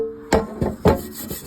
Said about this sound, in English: Scrubbing the back side of it.